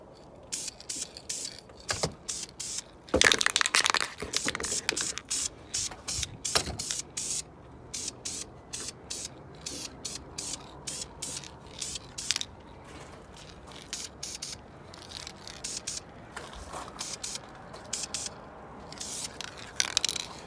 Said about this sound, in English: Every coat, you wait till it's dry, 10 minutes, a little bit tacky, and then you spray the next one.